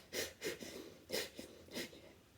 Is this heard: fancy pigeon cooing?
no